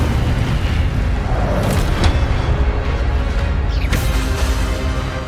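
Incendio fire spell bursting in Hogwarts Legacy, a loud, dense booming blast that rumbles on continuously with crackling flare-ups and sweeping whooshes.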